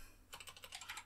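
A computer keyboard being typed on: a quick, quiet run of light key clicks, close but faint, with no voices.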